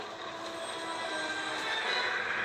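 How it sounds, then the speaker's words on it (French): A subway train in the Spider-Man video game makes a continuous, even rumble with a faint metallic wheel squeal on top. It holds steady and close throughout, with no voices. "Et quand on se téléporte, en fait, on va dans le métro."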